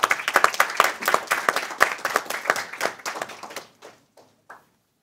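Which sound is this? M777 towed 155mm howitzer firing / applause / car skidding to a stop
applause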